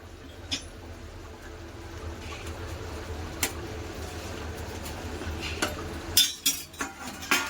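Faint bubbling of fish and potato curry in a pot gives way to a clattering metal lid set on top near the end, with a few light clinks earlier.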